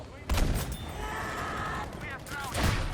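Gunfire in the World War II shooter Battlefield V, with two heavy blasts that open and close a short burst of rapid automatic fire and mechanical rattle, loud and close.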